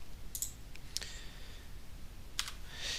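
Computer mouse clicks at a desk: a few quiet, sharp clicks spaced irregularly over a low background hiss.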